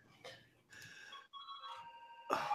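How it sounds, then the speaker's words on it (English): A mobile phone rings with steady electronic tonal beeps in repeating bursts, fairly close and clear, with a louder burst near the end and no talk over it. "My phone's ringing."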